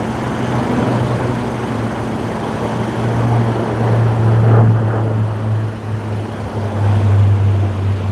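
A QantasLink propeller aircraft at Sydney Airport gives a steady, droning engine hum with a low tonal buzz that swells slightly, heard from a moderate distance with no talk.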